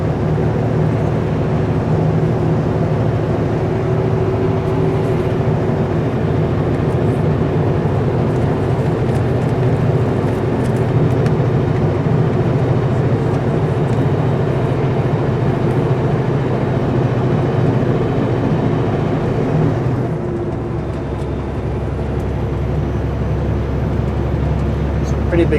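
A Super B heavy-haul truck loaded to 55,300 kg cruises in twelfth gear on a British Columbia highway, its engine a steady, loud drone that shifts tone near the end, while someone talks over it.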